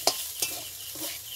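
Chicken being stirred into fried egg in a pan, a short close burst of sizzling with a few quick scraping stirs and clinks.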